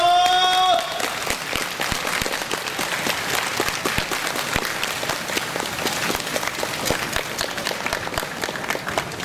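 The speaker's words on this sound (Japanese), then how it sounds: "では大きな拍手でお送りください。" Crowd at a baseball stadium festival applauding cheerleaders and mascots, a broad, continuous roar of clapping with distinct individual claps, following a brief announcer's voice at the very start.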